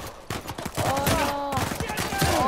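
Rapid gunfire from a firefight in Uncharted 4: A Thief's End, a loud, dense burst of overlapping shots over clashing game sounds, with voices talking underneath.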